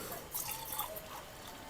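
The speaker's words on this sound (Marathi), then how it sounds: "इथे हे गरम उकळीचं पाणी आपल्याला यामध्ये घालायचं आहे." Hot boiling water poured onto sabudana (tapioca pearls) for potato chakli, a steady close liquid splash and trickle with a few brighter bursts, no talking.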